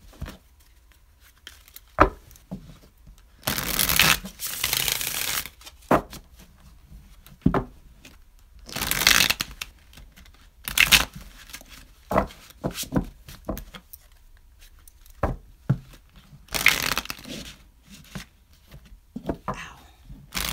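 Tarot cards shuffled by hand in a quiet room, giving repeated bursts of papery riffling and crinkling with short pauses between them, plus scattered clicks and taps.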